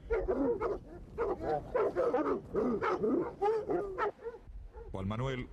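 Hunting dogs bred and trained for wild boar hunting in the Basque Country bark and yelp in close, repeated bursts, mixed with voices talking over and between the barks.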